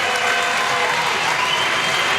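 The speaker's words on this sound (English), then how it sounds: "they're going to be hearing a lot of the crowd tonight" A stadium crowd at an IFAF European Championship American football game between France and Finland in Vantaa cheers and applauds, a dense, loud, steady roar of clapping throughout.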